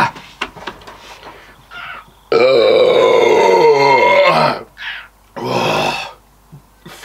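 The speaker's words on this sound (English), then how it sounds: "That fucking burp was ripping the shit out of my throat." A long, loud, rasping burp after drinking beer, lasting about two seconds, is followed by shorter grunts and a second shorter burp, heard close up.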